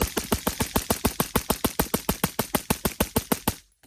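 A rifle on a Brownells Daniel Defense 14.5-inch upper fires a full magazine, about two dozen rapid, evenly spaced sharp cracks in a fast, regular rhythm before the shooting abruptly stops.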